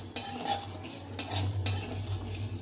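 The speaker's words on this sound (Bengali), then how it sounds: "কড়াইটা একটু গরম করে এই ডালগুলোকে একটু হালকা করে ভেজে নেব" Lentils (dal) are dry-roasted and stirred in a hot wok, a soft continuous sizzle and rustle broken by a few sharp scrapes of the utensil against the pan, with no voices.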